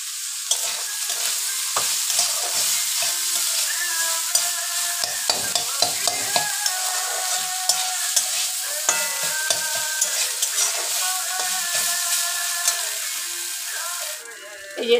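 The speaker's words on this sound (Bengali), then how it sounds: "এই যে থোড়টা তো ভাজা ভাজা হয়ে গেছে।" Chopped banana stem frying in a pan with salt and turmeric crackles in a loud, steady sizzle, punctuated by regular rhythmic stirring clicks and scrapes throughout.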